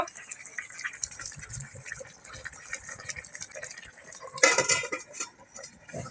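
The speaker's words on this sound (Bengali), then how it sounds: "এই তরকারির মধ্যে কয়েকটা বাতাবি লেবুর পাতা দিয়ে এখন কিছুক্ষণের জন্য ঢাকা দিয়ে দেব" A lid clinks onto a metal pot of simmering fish and gram-flour kofta curry in a home kitchen, a bright clattering knock amid soft background kitchen noise and rustling.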